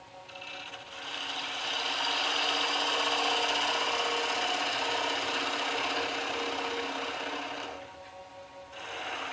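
Bowl gouge cutting a black walnut blank spinning on a wood lathe: a steady, loud rasping scrape sustained for several seconds, easing off briefly before the end, with no talk.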